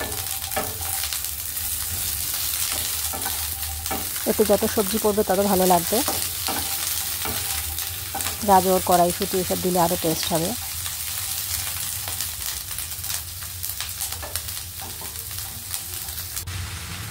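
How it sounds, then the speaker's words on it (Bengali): Cauliflower florets and capsicum pieces frying in a pan, a steady sizzle with bursts of stirring scrapes, while someone talks over it throughout. "দিয়ে আবার ভালো করে ভেজে নেব।"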